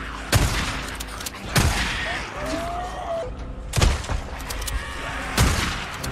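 Stubby shotgun blasts in the Days Gone video game, four loud, sharp booms spaced about a second or more apart amid horde combat noise, with someone talking between shots.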